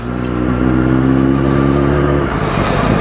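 A motorcycle engine accelerating in second gear through a 20 mph zone, a steady close drone that holds its pitch and rises slightly near the end, loud and continuous with no voices.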